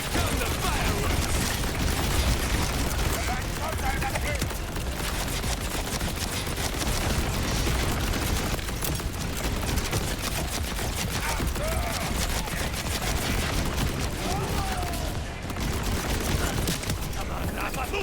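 In the video game Borderlands 4, explosions burst like fireworks during a boss fight, a dense, continuous barrage of crackling blasts and rapid gunfire-like pops that keeps going without a break.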